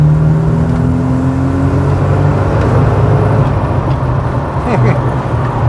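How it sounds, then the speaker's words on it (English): A modified Volvo 240 driving with a steady, fairly loud exhaust drone heard from inside the car, with a voice talking over the engine. "that exhaust is just a nice bit leery without being overbearing."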